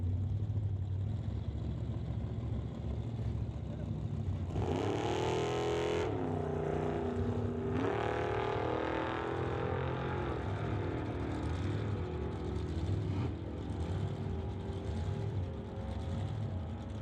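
A drag racing car at an old-time drag event does a quick dry hop to clean its tire, the engine roaring up sharply for a few seconds over a steady idle rumble, then settling back down.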